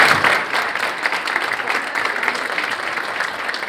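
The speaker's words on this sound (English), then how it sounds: "if everyone could give Judge Seidel a big round of applause as well" Steady applause from a town council meeting audience honoring Judge Seidel, dense continuous clapping that holds at an even level throughout with no voices over it.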